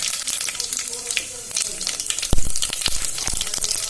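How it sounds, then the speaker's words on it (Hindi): Whole spices tempering in about 100 grams of hot oil inside a pressure cooker, a brief close crackling sizzle with sharp pops and spits partway through. "तेल हमारे गर्म हो गया है। अब ये फोरन हम डाली छी।"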